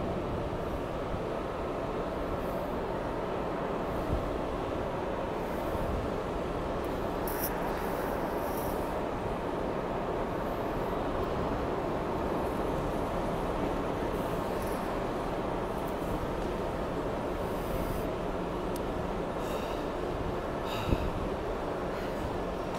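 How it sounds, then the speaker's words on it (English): Heritage train at a transport heritage expo led by a diesel locomotive, a steady loud rumble and rail noise running throughout, close by, with no talk. "We got a diesel loco at the front"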